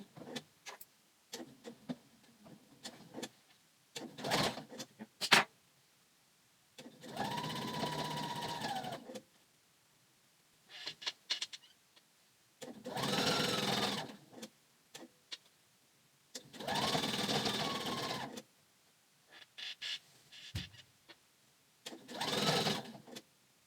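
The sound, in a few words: sewing machine stitching the Joss pant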